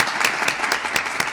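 A crowd applauds at a Raising RI Coalition campaign kickoff press conference, honoring a state representative and senator. The dense, steady clapping is close and loud, with individual claps popping out of the wash.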